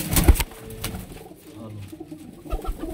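Soft pigeon coos, low and murmuring, with a few louder fluttering bursts near the start and end; fairly close, no talking.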